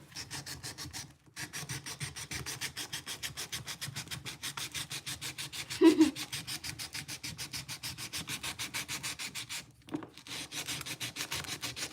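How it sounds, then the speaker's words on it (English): Steady rhythmic rasping of a file on wood while beveling a handmade knife blade, close and continuous strokes for most of the span with two brief pauses and no talk. "So I'll have to bevel this."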